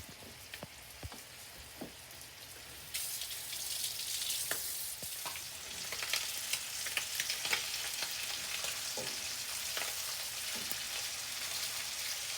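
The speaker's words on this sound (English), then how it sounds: "we're going to get a nice sear on both sides and then put it back in the skillet and hold it" Chicken sears in butter in a skillet with herbs and garlic, a steady close sizzle and crackle that swells louder partway through, with occasional stirring scrapes and spattering pops.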